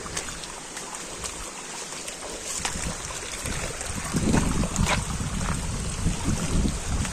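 Water rushes down Shilbunia waterfall in Bandarban, a continuous broad roar with wind buffeting the microphone, growing louder and heavier in the second half.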